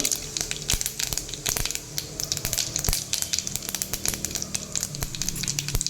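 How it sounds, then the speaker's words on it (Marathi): Mustard seeds, ajwain, turmeric and asafoetida sizzle in hot oil for a Marathi gavar bhaji tempering, a close, steady crackle with sharp spluttering pops scattered throughout and no voices. "तेल तापलेलं आहे तर त्याच्यामध्ये आपण मोहरी घालूया ओवा घालूयात हळद हिंग"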